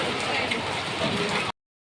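Steady rain falls on a market street in Old Delhi, a dense, even hiss of drops on surfaces that continues for over a second and then stops abruptly.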